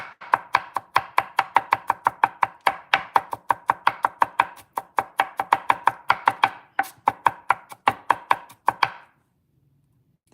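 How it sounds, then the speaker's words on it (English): Rapid, steady knife chopping on a cutting board while cooking stir-fried broccoli, dozens of sharp close strikes in quick rhythm for about nine seconds before stopping abruptly into near silence. "Chopping. It makes so much noise."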